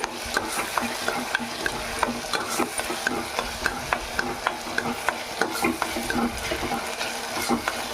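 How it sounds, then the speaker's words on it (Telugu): A ladle stirs country rooster curry frying in a pan, giving repeated scraping strokes in a steady rhythm over a continuous soft sizzle, close and clear. "గరిట పెట్టి తిప్పుకుందాం. మగ్గనిద్దామండి. బాగా తిప్పుకున్నామండి."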